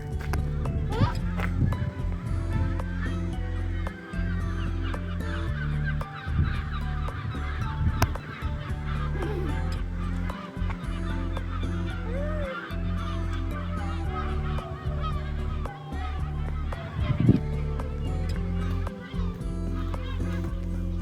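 A large flock of geese honks loudly and continuously, a dense, overlapping chorus of calls that never lets up, with a few voices mixed in.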